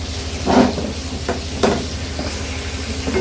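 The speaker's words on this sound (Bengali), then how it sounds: "আমি এখানে পটল ভাজা বসাইছি" Pointed gourd (potol) fries in a pan, giving a low background hiss with a few louder sizzling bursts as the pieces are moved about.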